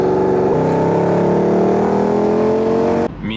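Mercedes-AMG car accelerating hard beside a Corvette on a road, a loud rising engine note that climbs through a gear change before cutting off abruptly near the end.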